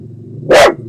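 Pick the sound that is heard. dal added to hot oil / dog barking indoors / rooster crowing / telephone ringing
dog barking indoors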